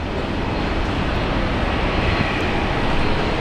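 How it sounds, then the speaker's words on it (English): An Airbus airliner on approach to Brisbane airport gives a steady, broad engine roar that holds at an even loudness throughout, with no voices. "We got an Airbus on approach."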